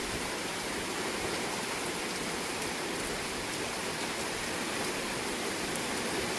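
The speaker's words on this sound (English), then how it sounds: "I wish it would quit raining." Steady rain falling outdoors, a dense, even hiss that holds without pause throughout, with no voices.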